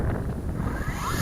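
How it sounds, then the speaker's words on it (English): Strong gusts buffet an outdoor microphone while small toy drones (MJX Bugs 3, JJRC H26) are flown, a steady low rumble filling the whole stretch with no pauses. "but it's too windy though"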